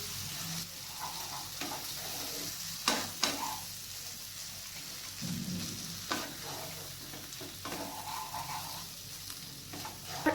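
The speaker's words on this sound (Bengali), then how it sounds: "এরপর আমি এখানে ম্যারিনেট করে রাখা চিকেনটা দিয়ে দিচ্ছি। চিকেনটাকে ভালো করে নাড়াচাড়া করে নেব।" Marinated chicken sizzles in a pan over medium-low heat while being stirred, a steady frying hiss broken by several sharp scrapes and clinks of the spoon against the pan, with no voices.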